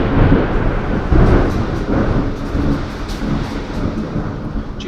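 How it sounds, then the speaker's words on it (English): Thunder from a storm rumbles loud and close, a broad, rolling low roar that swells and fades continuously across the whole stretch with no talking over it. "Did you hear that thunder?"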